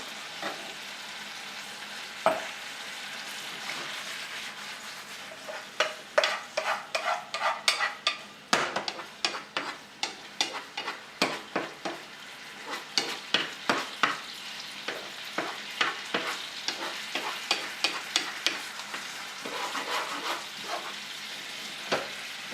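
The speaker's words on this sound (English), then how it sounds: "now you can see our Worcestershire sauce is reducing. It's evaporating off." Worcestershire sauce sizzling and reducing in a hot pan: a steady, fairly quiet frying hiss broken by irregular crackling pops and stirring scrapes, some sharper than others, with no talking.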